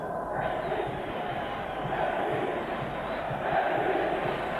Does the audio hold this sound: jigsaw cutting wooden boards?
no